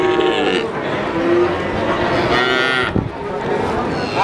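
Cattle at a Friday livestock market, one close, loud moo that stretches over several seconds, then a second shorter bellow, over a busy background of market noise.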